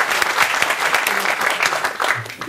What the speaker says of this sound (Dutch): Applaus voor dit debat.